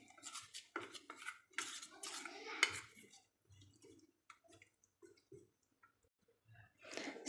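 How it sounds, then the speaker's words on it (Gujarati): A spoon clinks and scrapes against a bowl as water is stirred into a slurry for potato breadcrumb spring rolls, with busy clattering for the first few seconds and then sparse, quiet taps. "હવે એમાં થોડું થોડું પાણી ઉમેરી અને એની સ્લરી તૈયાર કરી લઈએ."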